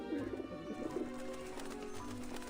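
Several game birds coo in Grim Fandango, a clear series of throaty pigeon-like coos in the first second, then continuing more softly under a steady musical background, with no voices.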